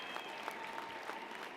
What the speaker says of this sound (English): Wave and cheer, make some noise, show them you're grateful